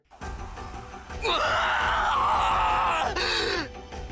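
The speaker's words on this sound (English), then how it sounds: "I was just about to ask that when my words were drowned out by a scream" A long, loud, strained vocal cry in the video game Sorcery Jokers, rising sharply and held for a couple of seconds before breaking off, then a shorter cry follows.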